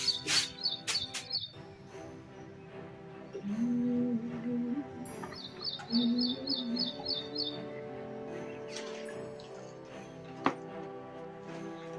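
Small birds chirp in quick, high trills that come in short bursts, with a low hum and a few scattered knocks in the background.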